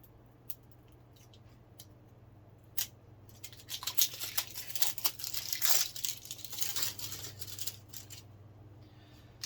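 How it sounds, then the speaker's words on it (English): Plastic wrapping crinkles and tears as it is pulled off a Bluetooth sound bar with a dual subwoofer. Fairly faint bursts of rustling build midway through and then taper off, with no talk. "I'll just take the plastic off this."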